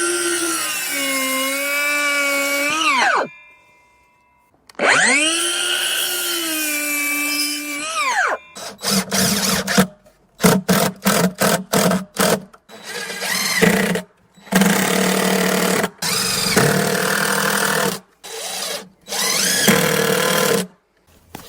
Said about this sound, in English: I'll do 2 rows in there and get that screwed in.